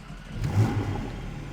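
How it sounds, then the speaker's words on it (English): A 2020 Porsche 718 Cayman GT4 flat-six with sport exhaust starts up, giving a brief rising burst of revs that settles into a steady rumbling idle, heard close with no talking. "It should sound pretty good. So that's the startup."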